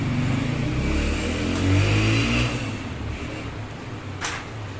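A Honda 125 motorbike engine revs up close, climbing to a loud burst before falling back to a throbbing idle, with a short sharp crack near the end as the throttle drops.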